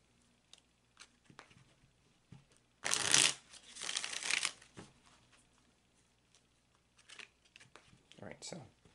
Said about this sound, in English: this is going to be the last time I shuffle